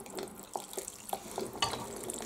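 White wine vinegar pours slowly from a bottle into a heated pan while gooseberry chutney is being made, giving faint, irregular soft drips and glugs against a quiet kitchen background.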